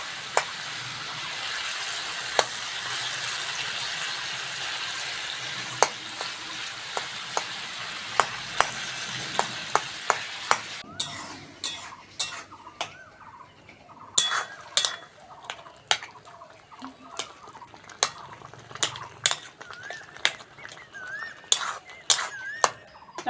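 Tomatoes cook in a pan while a spatula stirs them, with a soft sizzle at first, then repeated sharp scrapes and clinks of metal on the pan in an uneven rhythm, close and clear.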